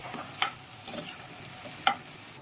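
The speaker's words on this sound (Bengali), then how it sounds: "পেঁয়াজটা অনেকটাই লাল লাল হয়ে গেছে ঠিক এরকম করেই ভেজে নিতে হয়" Onions and chillies fry quietly in a pan: a soft background sizzle broken by three or four sharp scraping stirs of a spatula against the metal.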